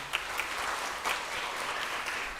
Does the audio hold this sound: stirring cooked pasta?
no